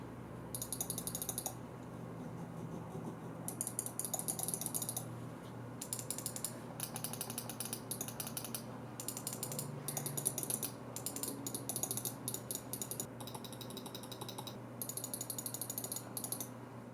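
Mouse button clicks from an Endgame Gear XM1 and a SteelSeries Rival 600 gaming mouse, heard in repeated bursts of sharp, close clicking separated by short pauses, alone and fairly loud.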